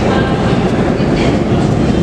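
A Barcelona metro train rumbles loudly and steadily in a dense, continuous roar of wheels and rail noise, heard from inside or close by with faint voices mixed in.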